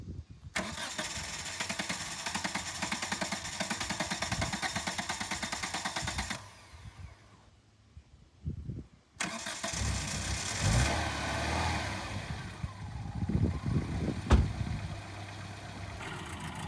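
A ten-dollar car cranks and starts, then settles into a steady idle, loud and close; after a brief pause the engine runs again with rougher, uneven bursts and knocks, no talk over it.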